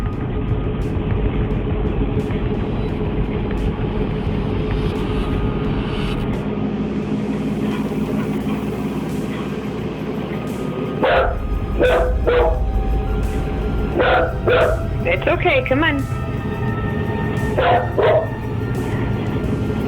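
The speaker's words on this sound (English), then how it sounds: "He seems to be looking at the wall just in front of him and then starts aggressively barking." A dog barks aggressively in a home kitchen, a run of sharp, fairly close barks in clusters over steady background noise, with a person speaking softly earlier.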